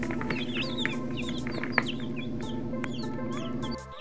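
Newly hatched chicks peep in a brooder, a busy chorus of high, rising chirps overlapping one another up close, with no voices.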